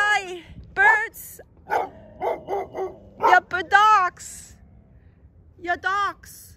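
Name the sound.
dogs barking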